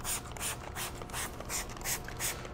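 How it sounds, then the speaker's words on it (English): Chemical Guys Matte Renew is sprayed onto a car floor mat in a series of short, soft hissing spray bursts at a steady rhythm, fairly quiet. "simply spray a coat of product onto the floor mat itself"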